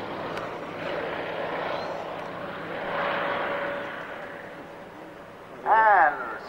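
A Bristol Blenheim with two Bristol Mercury radial engines flying at an airshow, a distant engine drone swelling and fading under crowd ambience, ending with a brief loud burst nearby.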